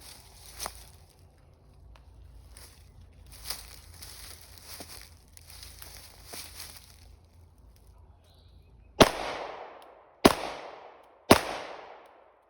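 Three loud, sharp 9mm shots from a BCA bufferless rifle firing 115-grain steel-case ammunition, spaced about a second apart near the end, after a stretch of quiet handling and shuffling.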